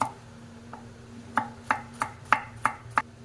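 Garlic and onion being chopped into small pieces, a series of about seven crisp knife strikes on a board, speeding into a steady rhythm in the second half, close and clear with no talking.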